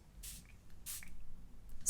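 A facial mist spray nozzle gives two quick, close spritzes, each a short hiss, followed by faint rustling.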